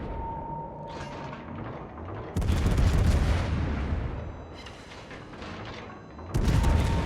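Heavy naval gun salvos fire from a Des Moines cruiser in World of Warships, two deep booming blasts about four seconds apart, loud and close, each followed by a rumbling roll over ambient battle noise.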